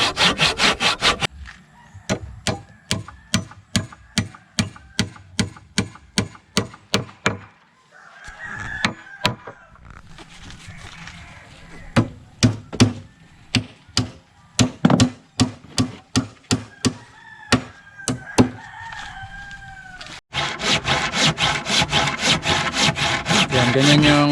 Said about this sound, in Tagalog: Pag may siwang ng konti, dalagariin para yung tumatama matanggal.